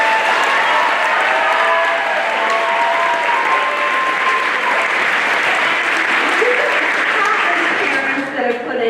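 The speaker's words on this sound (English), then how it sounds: "So a big round of applause for them." An audience at a high school musical senior honors night after a "Shrek" performance claps loudly and continuously, a dense crowd ovation filling the room with some voices mixed in.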